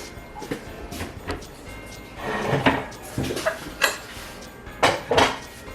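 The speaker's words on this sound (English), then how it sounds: "Getting the mixing bowl out." A mixing bowl being pulled out of a cupboard, with rattling dishes, clattering cookware and a drawer or door knocking in several close, uneven bursts, with no talk.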